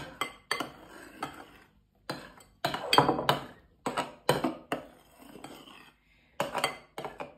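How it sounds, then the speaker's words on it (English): Meringue being folded into strawberry and orange mousse in a big bowl with a cut-and-fold motion, heard as a series of close, distinct clinks and scrapes of a utensil against the bowl, spaced irregularly with brief pauses between strokes. "we're just folding in the meringue now, a cut and fold movement"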